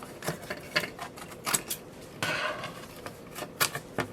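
A small sign for a Fourth of July deco mesh wreath having its top portion cut off, heard as a series of sharp, close snipping clicks with a longer rasping cut in the middle. No talking.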